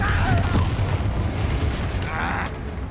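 A fiery blast from the Confringo spell in a wizarding video game, a sustained booming rumble with crackling bursts lasting the whole moment, loud and close, with voices faintly underneath.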